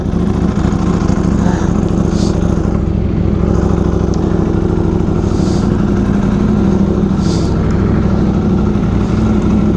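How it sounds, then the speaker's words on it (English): A fully tuned V4R motorcycle engine runs loud and close, holding a steady, throbbing low growl for about ten seconds with slight surges in revs. "I want him to experience what a fully tuned V4R does."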